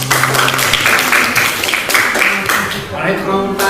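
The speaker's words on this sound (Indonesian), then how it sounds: "kita beri tepuk tangan untuk Aisyah." Applause from a class in a school lesson setting, a burst of many hands clapping fairly close and loud, continuing for several seconds before thinning out.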